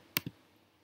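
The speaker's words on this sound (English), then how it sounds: "If I click into here" Two quick, close computer mouse clicks sound in quick succession, crisp and near, with the second slightly softer, followed by quiet.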